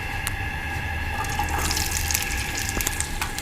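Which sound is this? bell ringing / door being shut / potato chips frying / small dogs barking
potato chips frying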